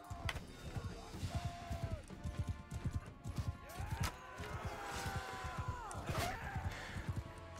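Horse hooves galloping in Mount and Blade: Bannerlord, a fast, steady clip-clop of many beats running through the whole stretch, with game sounds and voices of battle layered over it.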